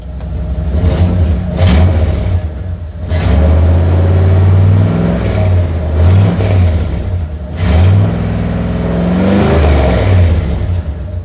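A 1994 Chevy Silverado K1500 with a 5.7L V8 and MagnaFlow exhaust carrying a leak, heard from the rear as the engine is revved several times, loud throaty surges dropping back to a rough idle between blips.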